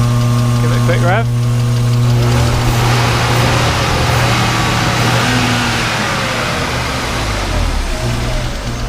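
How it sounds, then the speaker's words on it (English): A BMW E36 M3 engine idles with a loud, steady drone, blipped once in a quick rev early on before settling back to a rough idle, heard close up. "Give it a quick rev."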